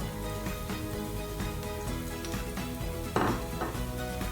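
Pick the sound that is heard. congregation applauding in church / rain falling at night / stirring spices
stirring spices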